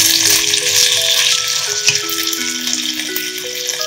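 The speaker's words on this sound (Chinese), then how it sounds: "把鸡翅放下去煎两分钟。" Chicken wings frying in a little oil in a pan, a steady crackling sizzle lasting throughout with a few faint rattles of the pan, close and loud.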